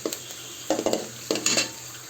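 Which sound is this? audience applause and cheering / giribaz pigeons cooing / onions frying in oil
onions frying in oil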